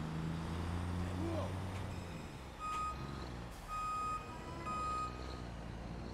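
Reversing beeps from a bus in the Watch Dogs 2 game, a series of regular electronic tones repeating about once a second over low engine and traffic noise.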